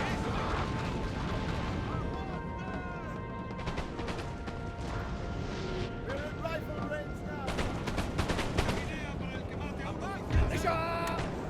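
Napoleon Total War battle in a British campaign: dense overlapping musket volleys and crackling gunfire with booming impacts, continuous and busy, ending in a sharper burst, mixed with shouted voices and a chaotic battlefield din.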